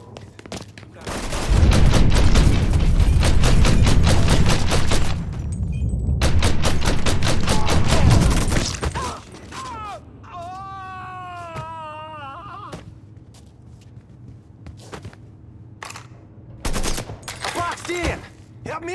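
Dense bursts of automatic gunfire in the Mafia 3 video game, loud and rapid for the first nine seconds, then quieter scattered shots with a brief voice-like tone over background game ambience.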